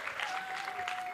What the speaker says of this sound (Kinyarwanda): Amashyi nyamuneka tumushimire cyane rwose.